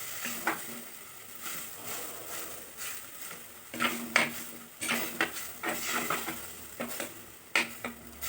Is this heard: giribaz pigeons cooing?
no